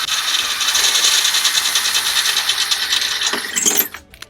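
A drill grinds steadily through the thin metal of a Dell OptiPlex computer case, a harsh whirring rasp that winds down near the end and then stops.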